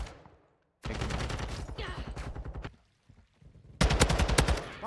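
Rapid automatic gunfire from a Hemlock rifle in a ranked online shooter match, loud close bursts of evenly spaced shots separated by a short pause and then another hard burst.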